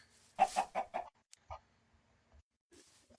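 Video game chickens on a survival farm cluck in a quick run of four or five notes, then a few faint scattered clucks follow in near silence.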